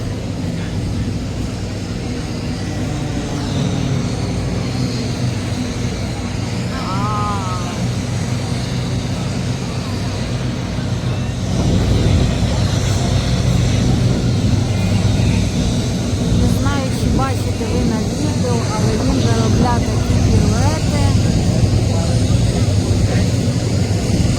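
F-16 fighter jets at the Cleveland air show make a steady, broad jet roar that swells louder about halfway through, with crowd voices talking underneath.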